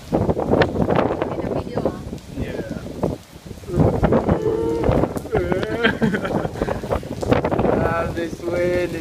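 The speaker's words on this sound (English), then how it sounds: "This wind is so tough." Strong typhoon wind outside buffets the microphone in loud, gusty roars that rise and fall throughout, while a person talks over it.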